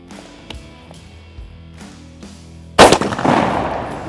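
A shotgun is fired once at close range while patterning for turkey season. The blast is loud and sharp and is followed by a rolling echo, with faint taps and shuffling beforehand.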